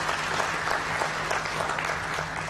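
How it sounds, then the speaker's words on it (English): An audience at an annual members' meeting of a national social security fund claps steadily for the board and management, a dense, even wash of applause heard from a distance in a large hall. "Ladies and gentlemen, can we clap for the board and management of Nssf?"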